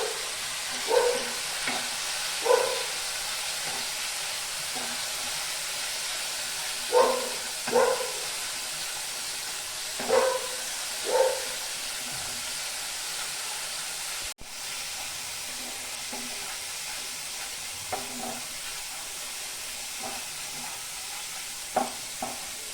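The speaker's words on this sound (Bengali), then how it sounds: "মশলাটা কষাবো তেল উঠা অবধি।" A spice paste of turmeric, cumin, coriander and Kashmiri chili powder sautés in oil, a soft steady sizzle broken by repeated scraping stirs in short pairs and one sharp knock.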